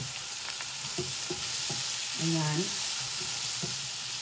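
Tomatoes frying in a pan with egg and cheese, a steady close sizzle with soft scraping stir sounds and a short burst of louder hiss, a brief word spoken over it.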